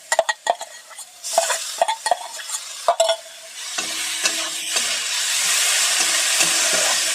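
Boiled, drained soybean chunks are stirred in a hot pan over lowered flame, first with a series of sharp spatula scrapes and clacks, then settling into a steady, loud sizzle.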